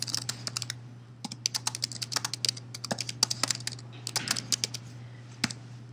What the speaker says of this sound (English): You can type in this little window here.